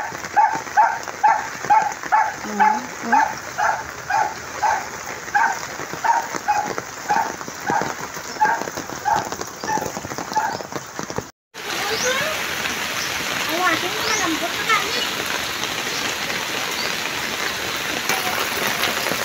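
Heavy rain from Typhoon Verbena pours over a flooded neighborhood street, with a steady dense hiss of water throughout; the first half carries a rhythmic pulsing pattern over the rain before a brief cut, then continuous broad rainfall and running floodwater.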